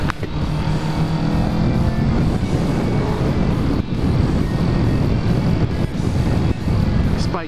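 A Kawasaki Ninja 650 motorcycle ridden at a demo day, its engine a steady, loud, continuous drone mixed with heavy wind rush, close up and without talk.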